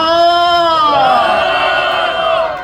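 A crowd at a church protest rally lets out a loud, sustained cheer, many voices whooping together in one long swelling shout that fades slightly toward the end.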